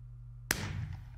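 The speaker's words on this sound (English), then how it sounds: "So now a firework." A firework going off in a hide-and-seek video game: one sudden loud bang with a short crackling tail that fades out, alone over a low background hum.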